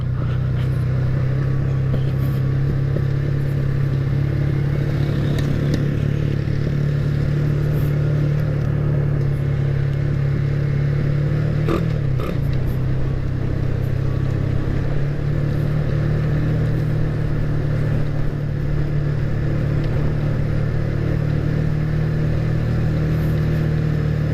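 A motorcycle carrying a rider and a passenger near the Balete Baywalk drones with a steady, loud engine hum that stays close and even throughout, with no talk.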